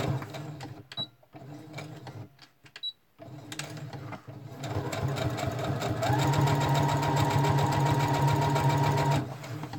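A sewing machine stitches a quarter-inch seam at a 2.5 stitch length on a Junk Trunk Kit cover, starting with short stop-start bursts, then settling into a loud, steady mechanical whir that runs until near the end.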